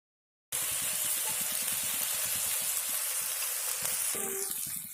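Gurami fish grills in a hot teflon pan, giving a steady, close sizzle and crackle that holds level throughout and ends with a brief scrape or shift near the finish, with no talk.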